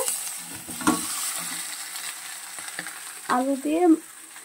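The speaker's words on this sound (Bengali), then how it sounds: "এই যে আমার মাটনটা কষানো হয়ে গেছে, আলু দিয়ে দিলাম" Mutton and potatoes sautéing in oil in a pan, a steady close sizzle with occasional spatula scrapes, and a brief voice near the end.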